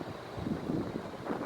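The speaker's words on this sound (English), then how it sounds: "Breezy. Windy today." Wind blowing on a breezy, overcast day near snow-capped mountains in Arizona, a low steady rumble with gusty buffeting against the microphone.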